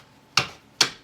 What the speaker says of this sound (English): Can we just like get a couple of shuffles before you start throwing cards at me?